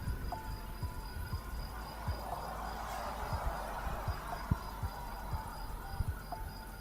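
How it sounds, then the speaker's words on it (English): Crickets chirp in a steady, faint background drone, mixed with a low hum and scattered soft clicks, with no talking. "I do hear crickets."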